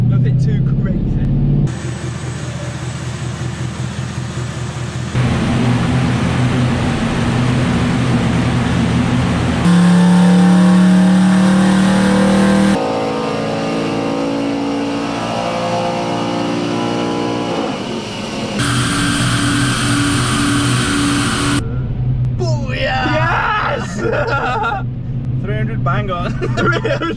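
A tuned Audi S5 engine revving on a dyno during a power run, the engine note rising and falling in loud bursts across the runs, with voices chattering over it.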